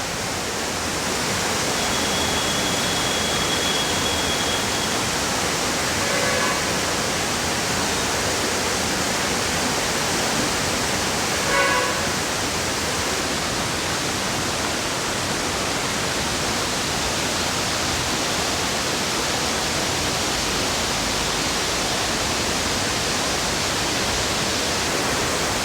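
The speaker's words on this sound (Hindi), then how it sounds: "झरने के ज़्यादा नज़दीक जाने के चक्कर में" A steady, loud broadband rush of falling water fills the scene from start to finish, heard up close at a waterfall near Nainital, with no voices and only faint momentary clicks above the constant roar.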